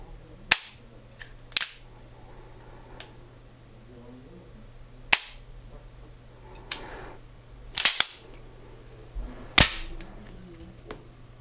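A SIG P210 pistol's trigger is pulled repeatedly, giving six or so sharp, close metallic clicks at irregular intervals, with a few softer handling sounds between them over a low steady hum.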